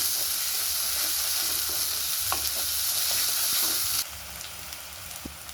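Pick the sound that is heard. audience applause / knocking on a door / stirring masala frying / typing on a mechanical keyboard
stirring masala frying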